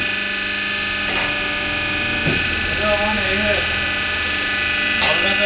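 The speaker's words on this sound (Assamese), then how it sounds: "ডাবল ডাইট মেচিন চলাই আছে" Double die machine running continuously in a workshop, a steady mechanical drone with rhythmic clanking strokes recurring every second or so, and a voice talking at moments over it.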